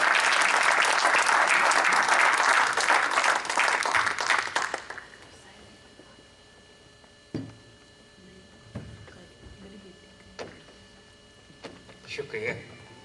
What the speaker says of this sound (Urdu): محترم حاتم رانی سے کہ وہ تشریف لائیں اور یہ غزل آپ کی خدمت پیش کریں بہت ساری تالیوں کے ساتھ۔